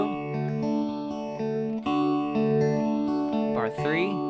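Effected electric guitar plays chords with chorus and echo shimmer, several sustained chord changes and a quick sliding flourish near the end; loud and close, no talking.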